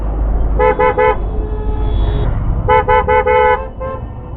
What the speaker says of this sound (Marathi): बघा गाड्या इथून कशा येतात त्या क्रॉस गाड्या येतात